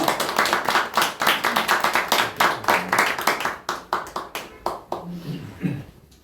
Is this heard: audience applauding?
yes